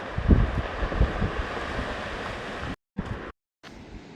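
Waves washing over a stony beach at Playa de Castro, a continuous rushing surf roar with wind noise on the microphone, cut by two brief dropouts near the end.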